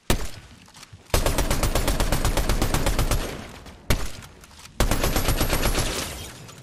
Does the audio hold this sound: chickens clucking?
no